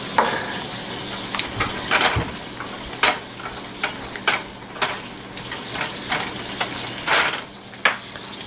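Chicken stroganoff with smoked paprika and fresh chopped parsley cooks in a pan, giving a steady low sizzle broken by scattered sharp clicks and scrapes of stirring. No one speaks.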